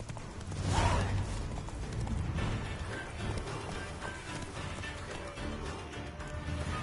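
Roach the horse galloping in The Witcher 3, rapid rhythmic hoofbeats thudding close by over a busy game soundscape, strongest near the start and continuing steadily with no speech.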